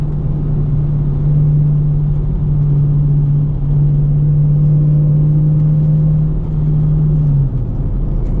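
A Dodge Challenger R/T with a six-speed manual gearbox drones loudly from inside the cabin while driving, holding a steady low engine hum that dips slightly near the end.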